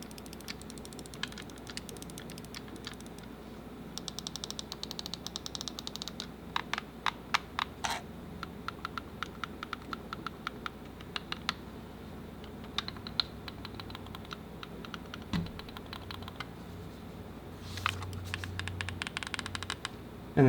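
Buttons on an EasySMX X20 game controller being pressed over and over, giving close, dry plastic clicks in irregular bursts and quick runs against a quiet background.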